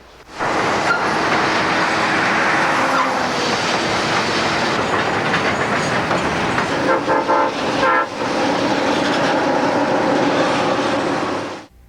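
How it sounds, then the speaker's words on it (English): A train backs under the Chessie overpass toward its N&W connection, a loud, close wash of rumbling diesel and rolling wheels with clanking car noise and a brief horn sounding partway through. "the train we just observed earlier is now backing under the Chessie overpass towards its connection with the N&W"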